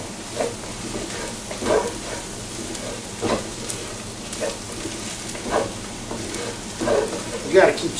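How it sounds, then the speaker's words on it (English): Meatball stew simmering in a pot is stirred in a steady rhythm, with recurring scraping strokes every second or so over a low bubbling background, close and moderately loud. "You got to keep stirring though."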